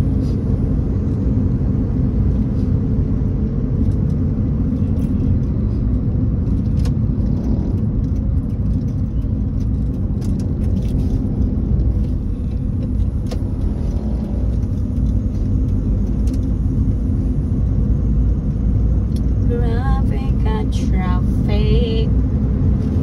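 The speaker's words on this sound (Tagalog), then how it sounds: "Traffic. It's because it's working time and school zone." Road traffic in a school zone during working hours rolls by as a continuous loud rumble of car engines and tires, with brief high tonal chirps near the end.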